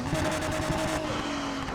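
In Need for Speed Heat, a Porsche GT3 RS engine drones steadily at moderate volume, a continuous revving tone that eases slightly partway through, heard alone without talk.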